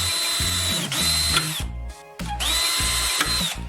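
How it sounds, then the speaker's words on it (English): Power drill boring two holes in a small piece of metal drywall profile, two separate whining drill runs with a pause between, close and loud, with grinding bite-through and clattering at the start and end of each. "Take a small piece of metal drywall profile and drill 2 holes in it"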